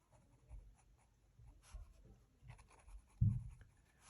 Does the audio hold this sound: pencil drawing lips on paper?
yes